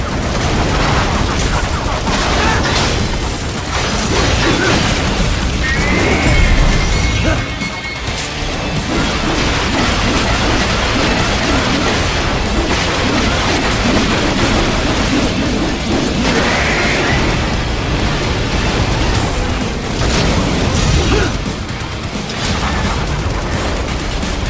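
Dense, continuous battle din from the Metal Gear Rising: Revengeance video game, with plasma cannon fire and explosions forming a loud, crashing, booming wall of sound that barely lets up, plus occasional metallic clangs.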